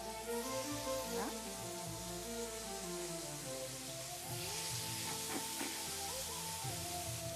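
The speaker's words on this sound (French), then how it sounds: "maintenant que de l'huile est bien chaud, on peut ajouter un filet qui est déjà bien mariné" Marinated lamb fillet sizzling in hot oil in a pan, a steady crackling hiss that runs throughout at moderate level, with a few clinks of handling over it.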